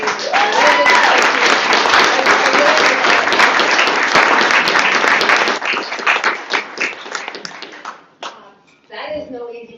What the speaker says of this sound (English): can we give Wendy a huge round of applause for that?